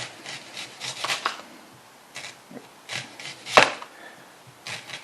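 A knife chops a whole onion on a board in scattered soft cuts and scraping strokes, with one sharper knock partway through.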